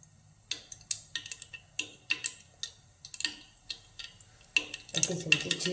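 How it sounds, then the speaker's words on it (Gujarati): Mustard seeds popping in hot oil for masala khichdi, giving scattered sharp crackles and ticks at an irregular pace, close and fairly quiet, with a denser sizzle building at the end. "રાઈ આપણે ફૂટવા દઈશું."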